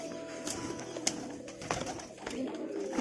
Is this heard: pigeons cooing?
yes